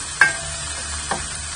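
Green sweet pepper, tomato and shallot cooking in a pan, a soft steady sizzle with two brief stirring scrapes, heard alone without talk.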